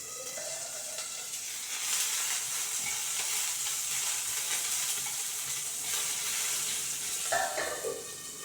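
Curry leaves hitting hot oil in a home kitchen pan, a steady faint crackling sizzle with bursts of spattering pops, heard close with no talking.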